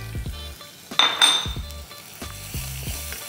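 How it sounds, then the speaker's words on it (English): Chopped medium onions tipped into a hot pan for a Sindhi sai bhaji start to sizzle, with pot and utensil clatter and a brief burst of hiss close by. "Next, we're going to be adding 2 like medium-sized onions, chopped."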